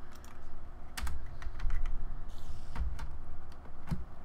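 Computer keyboard keys clatter in quick irregular bursts of close, crisp clicks, with brief pauses between short runs of typing, no voices.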